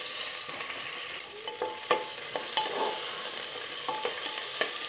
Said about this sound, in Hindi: अच्छे से गोल्डन ब्राउन होने तक फ्राई कर लेंगे।